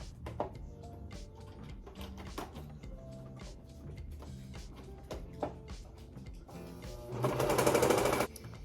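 A sewing machine stitches fabric together in short bursts of rapid mechanical whirring, with clicks and handling noises between runs, then a longer, louder run of stitching near the end, all close by with no talk.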